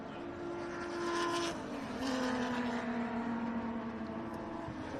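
VY Commodore and AU Falcon race cars battle under brakes on the Calder Park circuit, engine tones dropping and shifting as they close on a corner, fairly distant and moderately loud with no voices.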